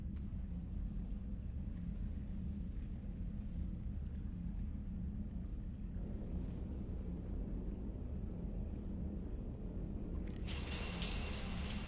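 Shower water running steadily in a Mass Effect 3 scene, a constant hiss and splash with low rumble underneath, growing brighter and louder in the last seconds; no one speaks.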